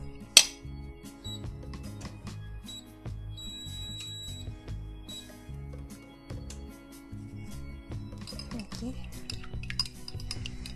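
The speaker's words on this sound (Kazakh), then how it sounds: "жұмыртқаны жақсылап шайқап алсақ болады." Rapid metallic clinking and tapping of a fork against a bowl while whisking eggs, a busy rhythmic whisking that continues with brief pauses, close and moderately loud.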